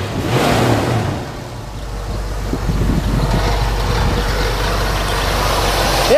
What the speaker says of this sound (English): motor runs nice and smooth